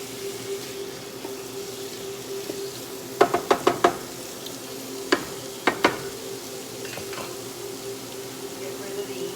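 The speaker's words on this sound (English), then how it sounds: "this is the artichoke hearts. So we're just gonna let that fry up here a little bit and get cooked." Artichoke hearts fry in a pan as a steady low sizzle close by, broken by several sharp stirring clacks of a utensil in a quick cluster, with faint scraping between.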